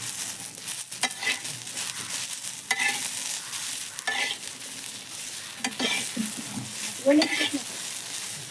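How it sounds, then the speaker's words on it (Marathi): Green chillies being stirred and roasted on an iron griddle over a traditional clay stove, with a steady dry sizzle punctuated by scraping stirs and occasional clinks of the pan, close up and with no talk. "तर चला मग आता आपण मिरच्या भाजून घेऊया."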